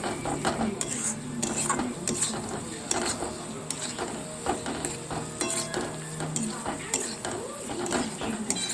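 Spices and chilli powder fry for egg curry in a pan, giving a steady sizzle under repeated scraping stirs of a spoon against the metal throughout.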